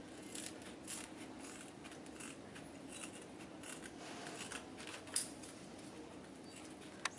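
Scissors snip through material close by in a quiet room, the faint cuts coming in a loose series with a couple of sharper clicks near the end.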